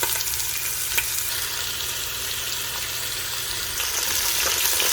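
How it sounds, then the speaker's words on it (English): Beef searing in hot oil inside a Ninja Foodi pressure cooker pot, a loud, continuous close sizzle and crackle with a slight surge near the end, no voices. "So now we're going to add our meat. I'm going to sear it on all sides."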